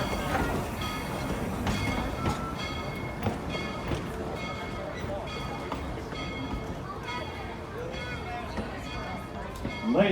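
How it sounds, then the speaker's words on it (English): Passenger cars behind Tweetsie Railroad steam locomotive #190 roll and clatter slowly toward a stop, with rhythmic clicks and metallic squeaks throughout, and an announcer's voice over it. "please remain seated until the trains come to a complete stop and the train cars are finished rolling backwards"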